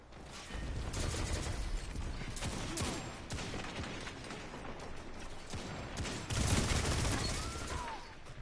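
Rapid bursts of gunfire and mechanical clatter fill a Destiny 2 firefight, dense and continuous with louder volleys near the end, heard without talking.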